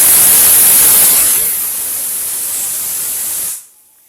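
A pressure cooker on a high flame, cooking chicken rezala, vents a loud rushing steam hiss that eases slightly partway through and then cuts off abruptly near the end.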